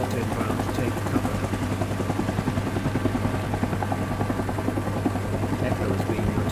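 A helicopter's rotor in the video game Rising Storm 2: Vietnam thuds in a steady, rapid chop, holding a constant loud drone throughout with game ambience behind it.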